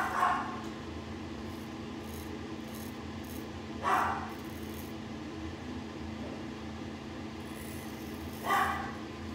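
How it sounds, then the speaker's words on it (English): A dog barks in three short, separate bursts spread across the stretch, each a single sharp bark standing over a steady low indoor hum, fairly close and moderately loud. "And the dog's gonna bark a ton."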